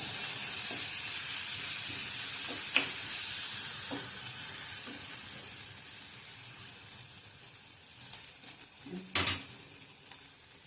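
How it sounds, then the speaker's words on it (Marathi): Spices fry in oil with Amul butter in a pan, a steady broad hiss of sizzling with occasional light stirring knocks that grow clearer toward the end, close and unaccompanied by speech. "चांगले मसाले तेलात परतून घ्यायचे। यात आपण अमूलचं बटर टाकूया, चांगले एकत्र करून घेऊया।"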